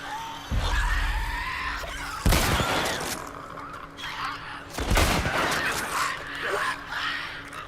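Shotgun fire in The Last of Us video game, with two loud, sharp blasts a few seconds apart, each followed by a fading rumble, over quieter game sounds and a scream.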